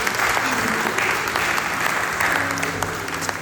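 Church congregation applauding during a Sunday worship service, a steady dense wash of clapping that carries on without pause, with faint voices mixed in underneath.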